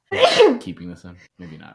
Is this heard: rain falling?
no